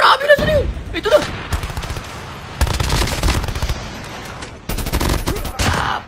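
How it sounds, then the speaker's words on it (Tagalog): Video game gunfire in loud, rapid automatic bursts separated by short pauses, with a voice briefly heard between volleys. "May bumabaril sa likod ko, pre."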